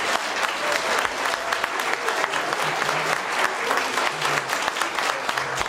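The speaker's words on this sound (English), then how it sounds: "Let's have a round of applause for our candidates for the Board of Selectmen." Audience applause for Board of Selectmen candidates at a town meeting, steady sustained clapping from a room full of people throughout.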